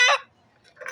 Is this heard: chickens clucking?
yes